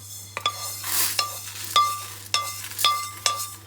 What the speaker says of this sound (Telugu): మినపప్పుని కూడా మనం వేయించుకోవాలండి కలుపుతూ వేయించుకోవాలండి